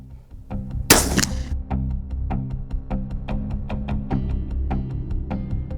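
A shotgun fires a homemade chained buckshot round in one loud, abrupt blast, followed by a steady run of sharp, evenly spaced ticks.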